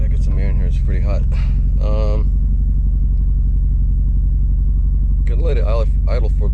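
A car engine idles steadily after starting, a constant low rumble that runs throughout, with someone talking over it at the start and the end.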